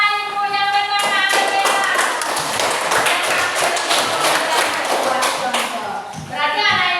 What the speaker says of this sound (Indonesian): tepuk tangan pada ibu yang benar